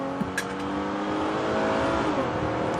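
A car drives close by with a steady engine drone that rises as it accelerates, while brief clicks and knocks sound early on.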